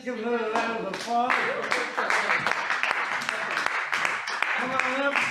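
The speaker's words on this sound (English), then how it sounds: "Give her a round of applause." Audience applause at an open mic magic show, a crowd clapping steadily and fairly faintly beneath overlapping voices and some cheering throughout.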